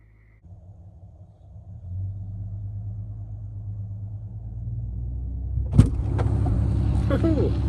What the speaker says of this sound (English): this Duramax, she starts up pretty good